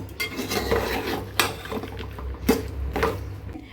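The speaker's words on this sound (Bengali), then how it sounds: "চেপা সুটকি আর ঢেঁড়স এখন আমি একসাথে ভালো করে কষিয়ে নিব" Okra and dried chepa shutki fish being stirred and pressed in a pan, with repeated metal scraping and clinking of a spatula against cookware, close and steady, with no talk.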